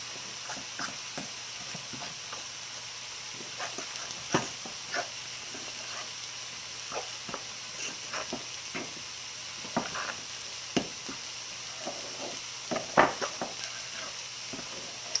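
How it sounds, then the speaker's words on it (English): A spoon stirs cornbread batter by hand in a bowl, producing soft irregular scraping and tapping sounds over a faint steady background hiss, close and quiet. "And just blend that together. You don't need a mixer, it just mixes right up."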